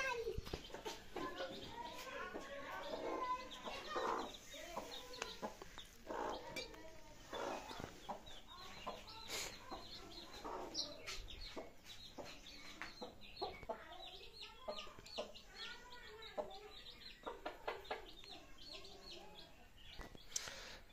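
A mother hen clucking among her newly hatched chicks after 21 days of sitting, with soft repeated clucks and high chick peeps scattered throughout, faint and close, while people and someone talk nearby.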